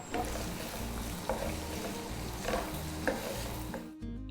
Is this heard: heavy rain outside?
no